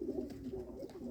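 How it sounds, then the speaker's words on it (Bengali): A pair of Rajshahi Giribaj pigeons coo softly and close by, low rolling calls that fill a brief moment alone. "অনেক সুন্দর এক জোড়া কবুতর"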